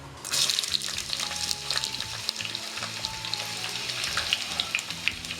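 Onions sizzle in hot oil in a pan already holding a piece of cinnamon, a busy frying crackle with occasional stirring and no voices, as the base for a Kerala-style mutton curry.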